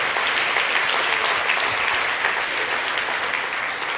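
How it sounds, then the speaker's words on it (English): Sustained, loud audience applause at a TEDx talk in Wan Chai honouring parents, dense steady clapping filling the room for the full four seconds with no break. "let's give them a round of applause"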